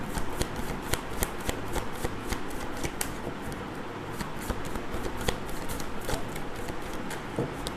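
Tarot cards being shuffled by hand, a steady brisk riffling and sliding of card stock with repeated sharp flicks, close and continuous for several seconds with no talking.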